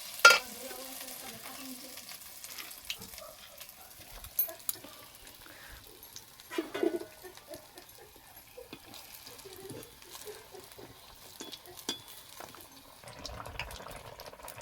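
Taro pitha frying in hot oil in a wok, a soft, steady bubbling sizzle with faint stirring clinks, fairly quiet and close, with no talking.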